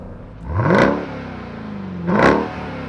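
A Dodge Durango Hellcat revs twice outdoors, each blip rising into a loud supercharger whine and exhaust roar, then settling back to a steady idle between the bursts.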